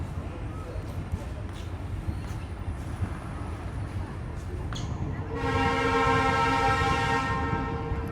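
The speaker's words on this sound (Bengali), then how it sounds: "পঁয়ষট্টি সিরিজের লোকোমোটিভের হর্ন শুনছেন" A Bangladesh Railway 65 series diesel locomotive sounds its horn, a loud sustained multi-tone blast starting partway through and holding to the end over steady rumbling rail and engine noise.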